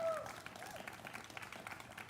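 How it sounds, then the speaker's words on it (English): Audience at a community Black celebration event applauding a young singer named Joshua, a steady wash of clapping held at moderate level throughout with a voice faintly present underneath. "Let's get another round of applause for Joshua."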